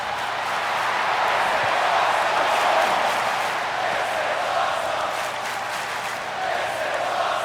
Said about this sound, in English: And the crowd is on their feet.